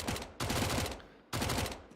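Rapid bursts of gunfire from Counter-Strike: Global Offensive in a tournament match, two dense volleys with a brief gap between them, loud and close, with no talk over them.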